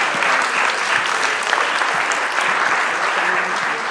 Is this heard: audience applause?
yes